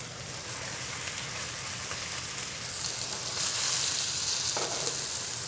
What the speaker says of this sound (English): Now, if you don't hear the sizzle, it's not hot enough